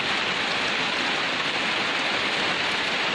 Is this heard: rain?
yes